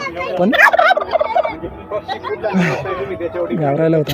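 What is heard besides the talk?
chickens clucking at a farm exhibition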